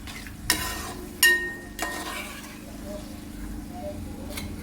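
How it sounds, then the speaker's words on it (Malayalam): Gravy with a quarter cup of water comes up to a boil in a pan, with a few sharp clinks of stirring and a soft, steady sizzle running underneath. "അത് നല്ലതുപോലെ ഒന്ന് തിളച്ച് കഴിയട്ടെ."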